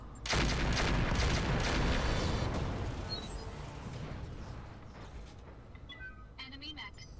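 Mech weapons fire in the Roguetech battle game, a dense loud barrage of rapid shots and booming impacts that gradually decays into scattered crackles, with a synthetic voice speaking near the end.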